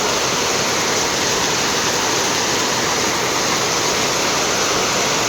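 Heavy rain blowing and splashing into a house, a dense, steady roar of water that fills the whole stretch with no pauses and no voices.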